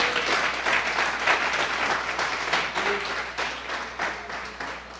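A church congregation applauding during a worship service, steady dense clapping from many hands throughout, moderately loud and filling the room with no talk over it.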